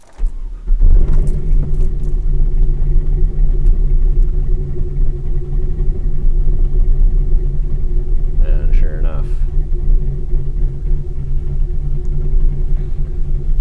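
A truck engine idles during idle tuning with HP Tuners, a steady low rumble that runs throughout after a start-up onset, with a brief jangle of keys and someone speaking over it.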